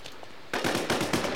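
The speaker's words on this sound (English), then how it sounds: "Three of them shooting at me?" Bursts of gunfire in the video game The War Z, a quiet moment followed by a rapid run of loud, sharp shots in quick succession with no talk.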